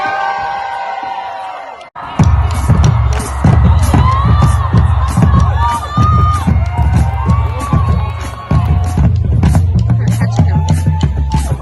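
Crowd on its feet at a girls' high school basketball regional final, cheering and shouting loudly during a timeout, with pounding rhythmic thumps and whoops in a gym.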